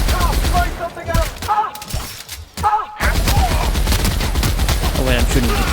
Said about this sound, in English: Oh wait, I'm shooting.